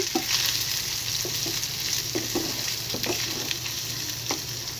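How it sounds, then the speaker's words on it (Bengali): Chili and turmeric powder frying in oil make a continuous soft sizzle, punctuated by light scraping taps from stirring, close and fairly quiet. "এটাও আমি তেলের সাথে একটু হালকা ভেজে নিচ্ছি।"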